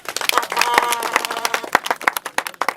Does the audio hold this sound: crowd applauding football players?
yes